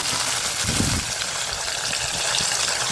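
Chopped tomato goes into a pan of onions softening in hot oil for a spicy chicken fry, and a steady, close, broadband sizzle hisses throughout without pause.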